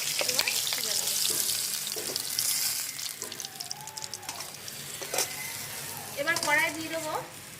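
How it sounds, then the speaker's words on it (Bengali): Pieces of rohu fish fry in hot oil in a pan, a steady crackling sizzle running throughout with occasional scraping stirs and a voice speaking over it. "দেখুন মাছগুলো ভাজা হয়ে গেছে"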